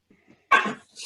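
A single short sneeze bursts out suddenly after near silence, close and fairly loud.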